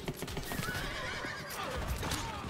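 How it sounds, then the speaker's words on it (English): A horse in the Diablo 4 video game whinnies and clip-clops in a quick steady gallop, the neigh rising over the hoofbeats against busy game noise. "Horse!"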